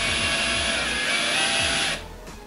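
A HOTO cordless brushless drill whirs steadily as it backs out a screw, a close high-pitched motor whine that runs for about two seconds and then cuts off.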